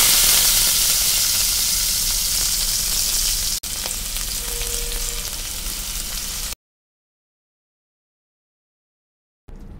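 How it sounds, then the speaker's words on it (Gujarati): Chopped chillies and onions fry steadily in a pan for about six and a half seconds, a loud, close, continuous sizzle with no voices, then it cuts to silence and a brief return near the end. "અહીં આપણી ડુંગળી સરસ રીતે ચતળાવા લાગી છે, તમે જોઈ શકો છો."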